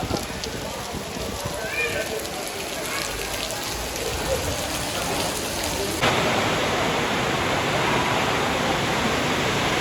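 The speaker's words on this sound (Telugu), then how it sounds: "ఫుల్ వాన" Steady, heavy rain roars throughout, a dense hiss of downpour that grows louder and fuller partway through.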